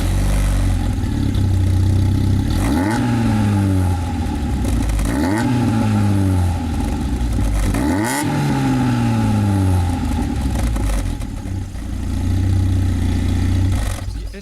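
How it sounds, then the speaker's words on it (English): A 1998 Lotus Elise S1 50th Anniversary revs hard through an aftermarket exhaust, loud and close. Three rising revs sweep up and fall back over a steady idle, with no voices. "the exhaust is also aftermarket because standard exhaust doesn't have a very good sound, and this one is much better"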